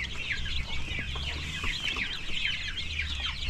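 Chicks and chickens at a backyard farm give a steady stream of chirps and clucks. The sound is soft and continuous over low background noise.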